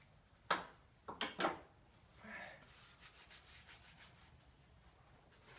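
Cloth or rag rubbing and wiping out an oily spark plug socket during a spark plug change, a few short scrubbing strokes up close, then quieter soft rubbing.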